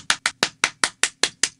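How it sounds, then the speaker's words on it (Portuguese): Eight sharp hand claps in a steady, even rhythm, each crisp and close with a quick decay, performed alone with no voices. "Palmas, porque a Rihanna voltou."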